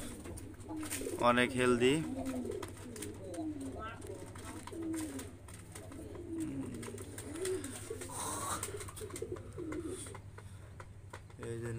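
Shirazi Lahori pigeons coo in low, throaty bursts at close range, while a person talks over and between the calls.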